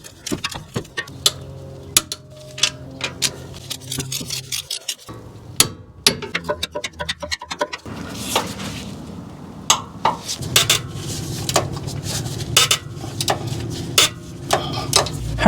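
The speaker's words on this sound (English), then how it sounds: "we need to torque the alternator nut here and the mounting bolts to 32" Torque wrench tightening the alternator nut and mounting bolts on a Toyota Tundra with a 4.6L or 5.7L iForce engine: close, sharp metallic clicks and ratcheting taps in irregular bursts, with clinks of tools and parts between them.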